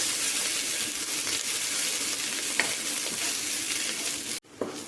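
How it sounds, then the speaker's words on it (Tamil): Onions sauté in a pan with fried garlic and banana pieces, a steady close hiss of sizzling oil with occasional scrape and stir clicks, cut briefly near the end. "வெங்காயம் சேர்த்துட்டு வெங்காயத்தையும் வணக்கிக்கோங்க"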